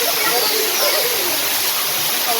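The Paloorkotta waterfall pours down from a height with a dense, steady roaring hiss that fills the whole scene, loud and close, with no break.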